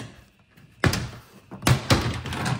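Plastic trim panel clips on a 2023 Tesla Model 3 frunk snapping loose: two or three sharp, close pops and thuds spaced over a couple of seconds, with faint rustling between them.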